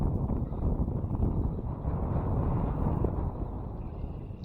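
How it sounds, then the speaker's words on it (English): Wind buffeting the microphone on Lake St Clair while bass fishing: a continuous low, rumbling roar that swells and eases without a break. "Wind's kind of slowing down a bit."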